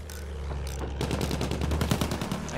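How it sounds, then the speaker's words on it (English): Anti-aircraft guns firing in Battlefield 1 at an attack plane, a dense, steady stream of rapid bursts with a constant low rumble underneath, loud and continuous across the whole stretch. "Da sind Flugabwehrgeschütze."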